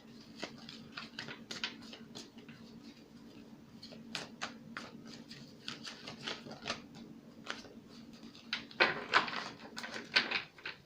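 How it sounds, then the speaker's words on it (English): Tarot cards riffle and shuffle in quick, irregular rustling bursts, close up, with light tapping and slapping; no talking. "This deck does not want to shuffle now."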